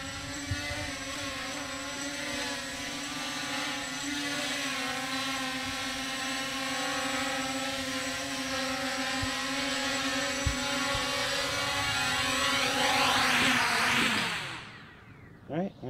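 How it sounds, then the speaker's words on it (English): A Holy Stone HS720G foldable GPS drone hovers with a loud, steady propeller whine full of harmonic tones, then descends to land on a deck, where the motors spin down and cut off with a few faint clunks. "Super easy to use GPS drone."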